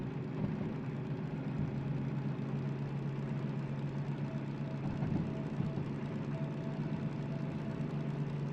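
A diesel locomotive engine in the train game Derail Valley runs with a steady, loud low rumble and drone that holds evenly throughout, with no voices over it.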